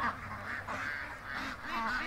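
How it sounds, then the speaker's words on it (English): A tiny duck weighing about a pound makes soft, repeated nasal quacking calls, fairly close and moderately quiet across a couple of seconds with no talk. "It is a tiny little duck."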